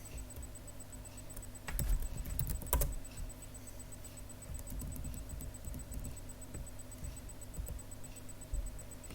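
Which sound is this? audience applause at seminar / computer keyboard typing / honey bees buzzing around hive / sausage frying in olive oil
computer keyboard typing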